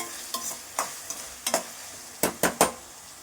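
A spoon scrapes and clatters in a pan of mutton masala in seven distinct close strokes over a soft, steady sizzle.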